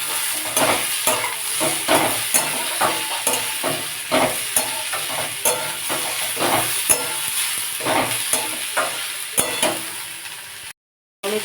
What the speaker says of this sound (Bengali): টমেটোটাও পেঁয়াজের সাথে ভালোভাবে নাড়াচাড়া করে নিচ্ছি।